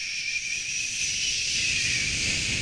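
A voice imitates the steady hiss of a running shower, a continuous breathy 'shh' held evenly and fairly close, with no other sounds.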